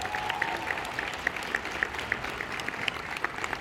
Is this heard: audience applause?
yes